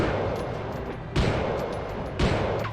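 Explosive rounds fire in a video game as a continuous rattling barrage, with two heavier blasts punching through, loud and close, with no voices.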